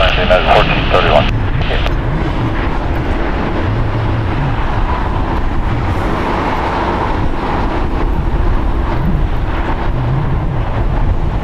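Jet airliner engines roar steadily at Los Angeles International Airport, where a SkyWest CRJ-700 regional jet operates; a loud continuous rumble with wind buffeting, and voices talk over it.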